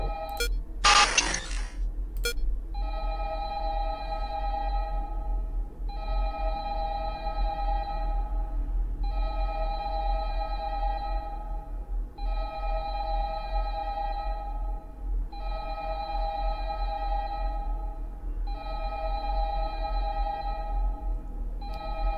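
Telephone ringing in the horror video game Five Nights at Candy's 2 on nightmare mode, a repeated electronic tone in evenly spaced bursts after a sharp crash-like burst at the start, over a low hum.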